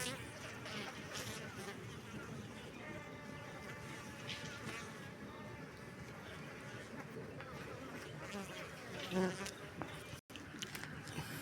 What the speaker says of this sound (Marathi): अजूनही बऱ्याच माशा तडपडत आहेत बघताय तुम्ही इथं खाली